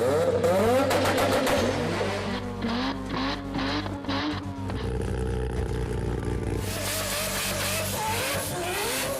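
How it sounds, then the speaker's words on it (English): A Mazda car with a rotary engine revs hard and loud, its pitch sweeping up and down in repeated surges, then settles into a sustained high-pitched howl with no voices. "When we think of the rotary engine, we think of this."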